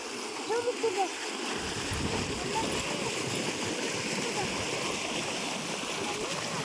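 Water splashes and churns steadily, close by, with a couple of brief voice-like sounds near the start.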